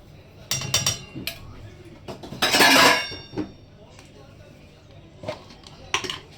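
Sabudana paratha dough is mixed in a bowl with peanut powder, chopped chillies and salt, giving close metallic clinks and scrapes of a utensil against the bowl in uneven bursts, louder near the middle.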